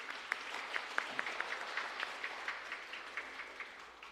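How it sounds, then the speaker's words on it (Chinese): A congregation at a Sunday church service applauds with steady, even clapping that lasts about four seconds, heard from a moderate distance with no talking over it. "我们再次用掌声再次谢谢"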